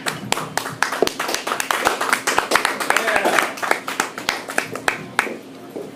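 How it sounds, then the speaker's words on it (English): A comedy club audience at an open mic night claps in a burst of sharp, scattered handclaps, fairly close and lively, thinning out toward the end. "You guys are still clapping."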